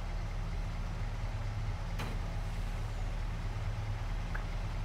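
A steady low engine rumble of a truck pulling in and idling nearby in Farming Simulator, with a brief hiss partway through and a faint clunk near the end.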